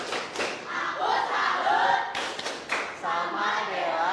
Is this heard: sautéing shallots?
no